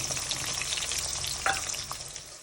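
Onions hit hot oil in a tadka with mustard seeds, sizzling loudly and steadily up close while a utensil stirs and scrapes through them, with a brief louder spatter midway.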